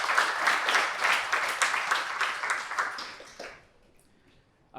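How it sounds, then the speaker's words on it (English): Audience applause at a corporate strategy launch event: a dense crowd of clapping hands holds strongly for about three seconds, then fades away into near quiet. "So I'd like to just give them all a round of applause for helping put this all together."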